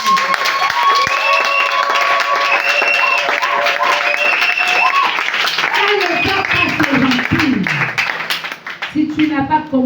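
A church congregation applauds with sustained clapping, loud and close, while a voice and music carry over the top before the clapping thins out near the end.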